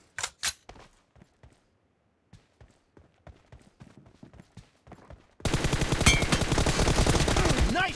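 Gunfire in the PUBG / BGMI mobile shooter during a 1v1 match: scattered single shots pop sharply at first, then a dense, loud automatic burst roars continuously to the end.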